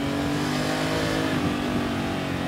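A 2018 Honda Gold Wing with a 1.8-liter flat-six engine accelerates in second gear, giving a loud, steady engine drone that rises slightly in pitch, close up with no talking.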